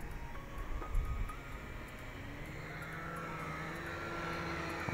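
A WLtoys Q696A toy quadcopter drone hovers very close to the ground outdoors, its small propellers making a thin, steady buzzing drone that holds at a constant, fairly faint level throughout.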